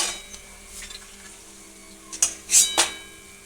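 Crispy fried tomato chips rattle in a pan: a quiet stretch, then a short cluster of three or four sharp, dry clicks and scrapes near the end.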